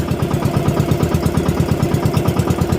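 A motorized outrigger boat (motor bangka) engine idles close up with a fast, even chugging pulse, loud and steady with no voices, at a Philippine island.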